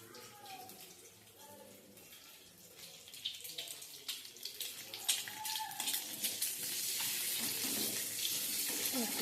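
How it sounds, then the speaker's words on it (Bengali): Eggs fry in a pan for Bengali egg curry, giving a spattering, hissing sizzle that grows louder and denser toward the end, with someone speaking quietly over it. "ডিমগুলো ভাজা চলছে।"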